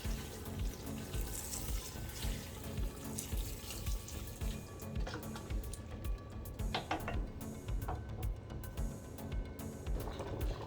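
Plain water poured into a cooking pot for a seafood okra soup, a steady close splashing stream running throughout, with a few brighter clinks and drips toward the end.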